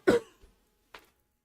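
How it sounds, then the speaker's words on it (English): A single harsh cough up close, followed after a pause by a shorter, softer cough or throat clear. "I got a cough."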